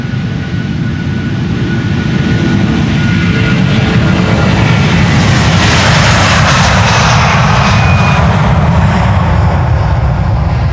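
A jet airliner on the Polderbaan runway at Amsterdam Schiphol produces a loud, steady, broad engine roar that holds throughout, close and continuous with no talk.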